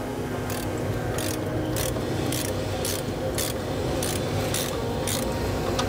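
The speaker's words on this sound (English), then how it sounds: "we're going to loosen the four nuts off under here" Nuts on the U-bolts under a Toyota Hilux are loosened with a ratchet, giving a steady series of regular clicking strokes against constant background noise.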